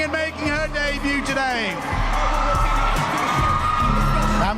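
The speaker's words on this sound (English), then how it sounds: "give a massive round of applause for Millie" Crowd at Lumpinee boxing stadium in Bangkok cheering and whooping loudly and continuously through a Fairtex Fight event, with a ringside announcer's voice running over the din.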